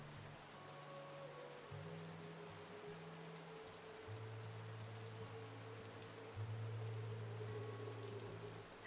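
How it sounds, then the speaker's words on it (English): Warm rain falls steadily in a magical forest setting, a soft continuous hiss of drops with no voices, while a low sustained musical drone hums underneath throughout. "a beautiful warm rain is now falling upon you"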